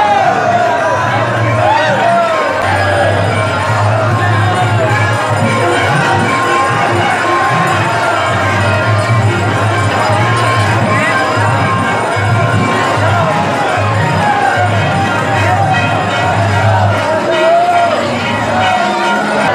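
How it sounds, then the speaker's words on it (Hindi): A large, dense crowd of devotees pressing and jostling at the Nand Mahal temple during a birth celebration, a loud continuous roar of voices with shouts and cheers, close and unbroken, with nearby talk mixed in. "मैं आपको बता दूं अभी काफी ज्यादा भीड़ है, आप देख सकते हो, और भक्तों की संख्या काफी है और धक्का मुक्की चल रही है।"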